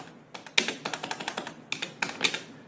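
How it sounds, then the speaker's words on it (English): Rapid clicking keystrokes on a computer keyboard, two bursts of quick, fairly close taps separated by a short pause, with no talking. "I cannot type on this keyboard, and I don't know why"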